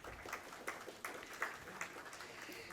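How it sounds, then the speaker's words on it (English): Faint, distant applause from a business conference audience in Nagpur, a soft continuous patter of many hands with a few sharper claps rising above it. "Let's have a round of applause, please."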